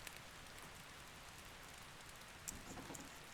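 Steady rainfall in the video game Ark Survival Ascended, a continuous even hiss of falling drops with a slight swell near the end and no voices.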